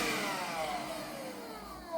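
A Parkside 20V cordless handheld vacuum cleaner (PHSSA 20 Li C1) with an 8 Ah battery runs with a steady high whine that slowly falls in pitch as the motor winds down, close and alone.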